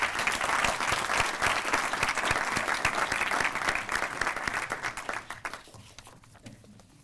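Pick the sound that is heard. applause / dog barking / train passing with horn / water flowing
applause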